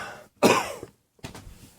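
Two coughs, the first loud and close and the second a bit weaker, with a short silence between them.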